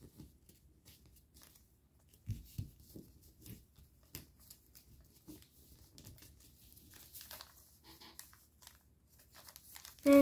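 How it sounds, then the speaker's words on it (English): Paper layers folded on an origami fighter jet give soft, close crinkles and rustles in scattered bursts, quiet throughout. "next you're going to fold these layers up"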